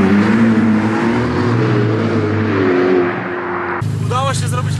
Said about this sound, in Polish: Pokażę wam, jak wygląda flyby w F8.